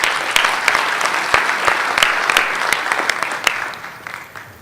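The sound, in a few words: audience applause at a conference session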